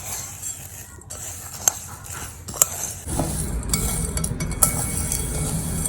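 A dry rice and lentil mixture is roasted and stirred in a pan. A spatula gives a few sharp clinks against the metal, then a steady grainy rustle and crackle of the grains follows, close and fairly loud.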